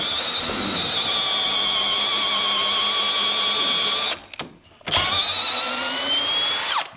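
A power drill bores a half-inch hole through metal on a vehicle window frame, a loud steady whining drone with a high scraping pitch, briefly stopping and then starting again close by.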